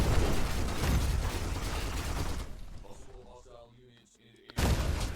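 Dense, rapid bursts of gunfire from units in the Eximius strategy game crackle loudly, thin out into scattered pops with voices mixed in, then surge back in a heavy volley.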